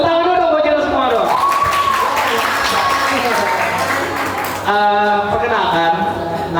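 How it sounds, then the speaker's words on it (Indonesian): Audience clapping at a school or campus community event, a steady wash of applause running under children's and presenters' voices, with cheerful shouts and speech rising over it at the start and end. "tepuk tangan dulu dong buat kita semua dong"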